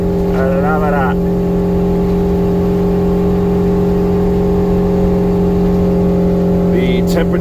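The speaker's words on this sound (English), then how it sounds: "That Chrysler 440 is just cranking." A Chrysler 440 engine idles steadily on fresh fuel through its carburetor, a loud, constant low hum with a strong droning tone throughout, with brief speech heard near the start and end over it.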